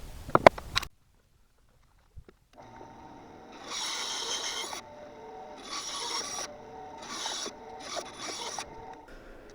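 A bandsaw with a probably dull blade cuts through a piece of old wood beam in several rough, grinding bursts over the running motor's hum, with short pauses between passes.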